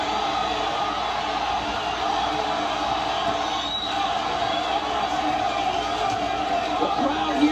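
Dense boxing arena crowd in Las Vegas at a Vergil Ortiz Jr vs Serhii Bohachuk fight, a steady roar of cheering that holds throughout with swelling bursts, heard under ringside commentary.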